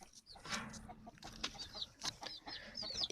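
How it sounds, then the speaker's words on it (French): A hen with five chicks on a farm clucks in short, soft bursts, while thin high chick peeps chirp repeatedly through the latter half, close and fairly quiet. "il y a une poule avec des poussins"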